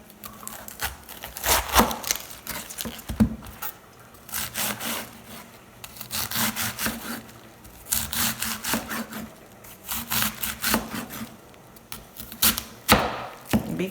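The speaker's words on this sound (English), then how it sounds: "We're going to go ahead and cut our cabbage up." A knife chops cabbage in irregular bursts of crisp, rapid cuts against a board. Short pauses separate the runs of strokes, and no one talks.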